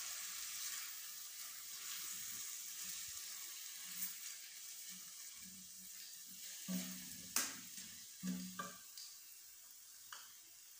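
Soy sauce being stirred into chicken Manchurian frying in a pan: a faint, steady sizzle with scattered scraping and clinking stirring knocks that grow more frequent toward the end.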